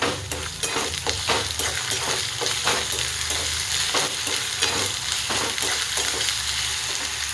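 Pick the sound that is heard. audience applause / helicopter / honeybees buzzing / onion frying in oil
onion frying in oil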